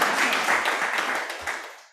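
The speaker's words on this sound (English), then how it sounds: "Let's have a round of applause" A small crowd claps together in a brief round of applause that fades out within a couple of seconds.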